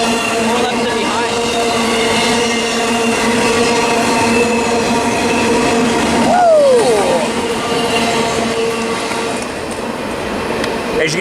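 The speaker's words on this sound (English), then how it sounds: "There goes the Amtrak south to San Diego and the freight eastbound." Trains rolling past at Commerce–Fullerton, an Amtrak heading south toward San Diego alongside an eastbound freight, a loud sustained rumble with droning tones and a squealing wheel sweep midway, close and continuous.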